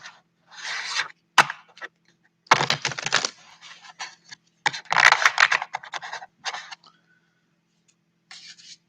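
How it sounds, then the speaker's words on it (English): A deck of tarot cards is shuffled nearby in short, papery riffles and scrapes, broken by quiet pauses and a few sharp taps as the cards are squared. "So I'm just going to shuffle the cards."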